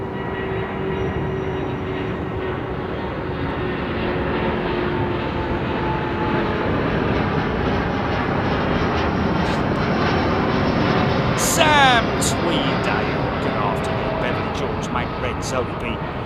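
A Saudia jet in Formula E racing livery departing Heathrow Airport, a steady loud engine roar that holds throughout at a distance, with brief clicks and a faint chirp near the end.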